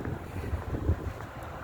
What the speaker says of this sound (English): It's just windy as shit.